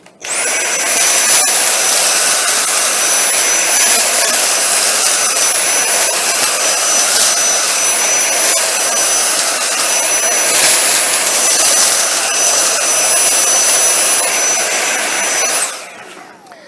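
A Dyson V7 Trigger cordless vacuum runs in high power mode over a tile surface, a loud, steady, high-pitched whine held for about fifteen seconds before it shuts off abruptly.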